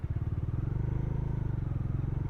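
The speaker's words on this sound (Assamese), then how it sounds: "তাগৰা ট্ৰেফিক" Road traffic with motorcycles, led by a close engine throbbing in a fast, even pulse that holds steady and fairly loud for the whole stretch.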